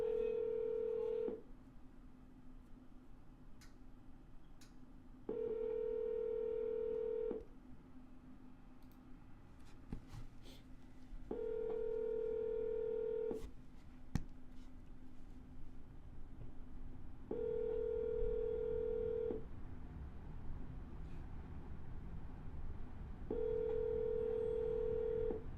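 Outgoing phone call tones: a steady ringback tone sounds in five evenly spaced bursts of about two seconds each, separated by pauses of about four seconds. Faint line noise runs underneath, and no one speaks.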